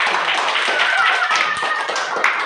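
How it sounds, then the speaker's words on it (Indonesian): Children in a primary school classroom in the Papua highlands clap for a group, a dense, steady burst of many small hands close by, with a few voices mixed in. "kita tepuk tangan buat kelompok"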